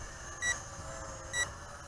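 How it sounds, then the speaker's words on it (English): A Tianqu Visuo XS816 RC drone gives two short, high electronic beeps about a second apart, clear and close over a faint steady background hum. "And it is sending out a headless mode beep."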